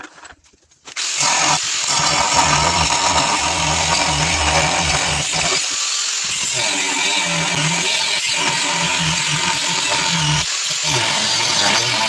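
A 230 mm angle grinder cutting a metal blank for a lug, loud and continuous whining grind that spins up after a brief quiet start and keeps running with small dips in load.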